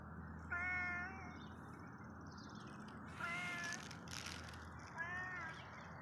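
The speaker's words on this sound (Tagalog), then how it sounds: "Ang gandang pusa oh." A cat meows three times, clear, tonal, drawn-out cries close by, spaced a couple of seconds apart over a low steady background hum, with faint rustling between calls.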